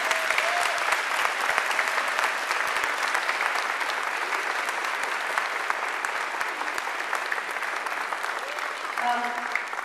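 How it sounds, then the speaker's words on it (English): Sustained audience applause for community association board members at the grand opening of the Trout Lake Community Centre, dense and steady from start to end, filling a large room. "we really owe them a big round of applause or two"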